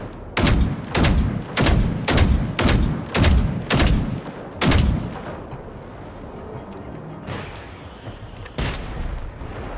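Machine gun fire rings out as about nine loud, evenly spaced bursts in quick rhythm, close and booming, then gives way to quieter rumbling and a few fainter distant shots.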